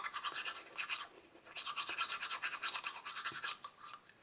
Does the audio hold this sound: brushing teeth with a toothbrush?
yes